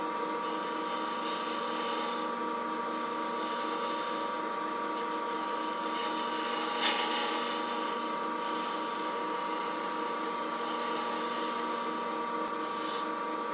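Boxwood turns on a lathe as a tool cuts fine, whispery shavings, giving a steady, quiet rasping hiss over a constant motor hum, faint and continuous with no talk.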